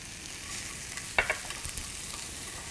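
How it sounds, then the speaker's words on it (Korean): Sliced onion stir-fried in a pan for tteokgalbi, giving a soft, steady sizzle with a few light clicks and scrapes of a utensil, close but fairly quiet. "같은 팬에 아까 썰어놓은 양파 네, 볶아주시면 돼요"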